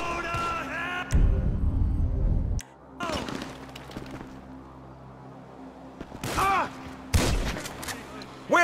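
Gunfire in the video game Grand Theft Auto V, with short rattling volleys and sharp bursts mixed with shouting voices and other game sounds.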